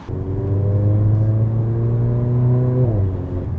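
A Mercedes-AMG engine, the same unit used in the GLA 45 AMG, revs in a loud, close, rising whine that holds steady and then drops off sharply near the end, with no talking.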